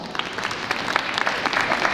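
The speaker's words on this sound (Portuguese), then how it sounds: "uma salva de palmas" Audience applause at a concert of sacred music after a singer is introduced, a short stretch of scattered, fairly close hand claps with no talk over it.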